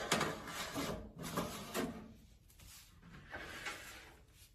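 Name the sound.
dehydrator trays sliding into the machine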